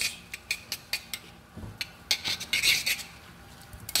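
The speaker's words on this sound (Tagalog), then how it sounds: "Haluin ng maayos." Metal utensil clinking and scraping against a bowl while spicy noodles are stirred, a series of sharp irregular clatters and rubs up close, with no talking.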